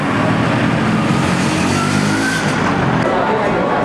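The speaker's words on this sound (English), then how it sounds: "These 50s cars are quite a national treasure in Cuba." An old 1950s car drives by on a street in Santiago, Cuba. Its engine hums continuously and fairly loudly through the whole stretch, mixed with the busy noise of the street.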